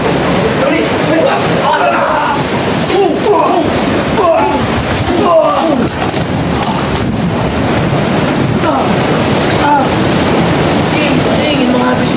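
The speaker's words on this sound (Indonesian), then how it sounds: "Ombak semakin besar." Ocean waves surge and wash continuously with heavy wind buffeting the microphone, loud and close, while voices talk over the roaring surf.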